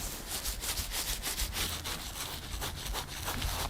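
Hands rubbing over the scalp during an ASMR dandruff treatment, a close, steady dry friction that continues in soft repeated strokes throughout, with no talking.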